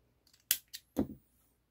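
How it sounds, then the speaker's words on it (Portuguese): Scissors snipping through crochet yarn while a baby's sailor bootie is being made, three crisp close cuts in quick succession in a quiet room. "Meu fio aqui eu já posso cortar"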